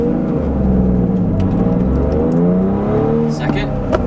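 A BMW E36 M3 with a swapped six-speed manual pulls hard in first gear, its engine note rising steadily and loudly from inside the cabin while the driver talks over it.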